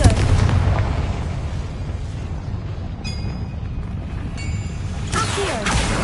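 A Confringo blasting spell explodes in a Harry Potter video game, a sustained loud, rumbling burst of low boom and noise that carries on steadily, with a brief higher crackle near the end.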